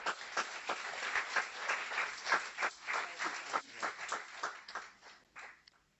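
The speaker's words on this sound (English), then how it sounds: "A warm round of applause for Kathy Zubricki." Audience applause at a Guiding Eyes guide dog graduation ceremony, steady clapping from a modest crowd for several seconds, irregular claps tapering toward the end.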